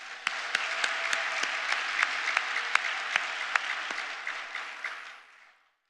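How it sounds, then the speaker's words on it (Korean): Church congregation at a Full Gospel church service applauding a pastor, steady dense clapping with a few sharp louder claps throughout, sustained about five seconds before fading out. "하나님께 영광의 박수 다시 한번 올려드립니다."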